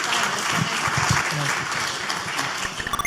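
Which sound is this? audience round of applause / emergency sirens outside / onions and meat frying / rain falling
audience round of applause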